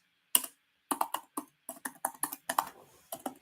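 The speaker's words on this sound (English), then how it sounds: "I'm going to write that down." Notes go down in rapid keystrokes on a computer keyboard. Roughly a dozen sharp taps come in quick, uneven bursts, close and alone in a quiet room.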